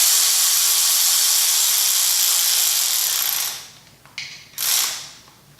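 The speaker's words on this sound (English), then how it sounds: "I'm just going to run them down with this impact" An impact wrench runs down 10mm bolts on a Honda F22B2 engine. A loud, continuous mechanical buzz lasts about three seconds, then cuts into a few short, choppy bursts.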